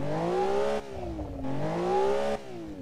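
A flat-six engine in a rear-engined estate car built in the Automation game revs steadily, its smooth harmonic tone rising and falling in pitch across several throttle swells, sounding quiet and refined.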